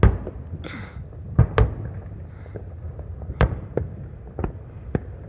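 Fireworks bursting outdoors, a series of sharp separate booms and cracks spaced irregularly, with a whistling rocket rising early on and mid-distance pops scattered throughout.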